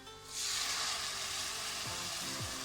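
Sautéed soup base sizzling in a pan, a close, steady frying hiss that starts abruptly and holds, with faint stirring scrapes near the end.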